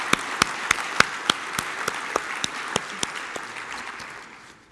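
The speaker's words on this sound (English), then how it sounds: "Let's give them another round of applause" Audience applause at an annual arts convention forms a broad wash of clapping, with distinct sharp claps standing out in a regular rhythm before it fades away.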